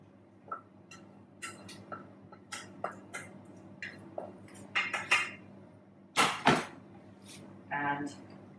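Chicken fajita mixture tipped from a pan into a dish of cooked pasta, with a run of close clinks, knocks and scrapes of utensil against cookware, a few louder clatters near the end.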